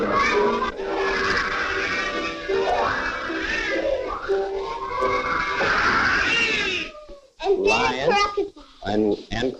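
Several young children meow in turn, imitating kitty cats in lively, overlapping bursts at close range; the high playful mewing runs steadily, then breaks into shorter separate calls near the end.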